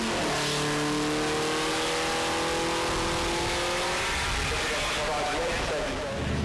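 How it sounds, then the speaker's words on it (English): A Mercedes-Benz W165 racing car at the Goodwood Festival of Speed revs loudly, its engine note climbing in rising sweeps before settling into a rougher roar, with a commentator talking over it. "Mercedes-Benz, when Max von Pine agreed that they would get the W165 going again and bring it"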